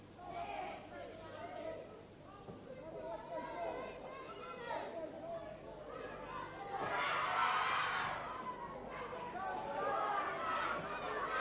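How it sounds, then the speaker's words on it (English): The crowd at a 1983 wrestling arena cheers and chatters through a bout, a loud, roomy murmur that swells and surges toward the middle while voices shout within it. "And the crowd liking it very much."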